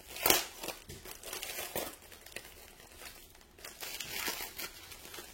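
A small plastic pouch for diamond painting supplies crinkles and crackles as it is pulled open, close and fairly loud, with a sharp burst at the start followed by repeated rustling handling.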